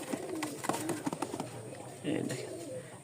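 Pigeons held for sale in a loft, including a breeding pair on eggs, coo in low, murmuring phrases at close range, with a steady busy background and some faint overlapping sounds.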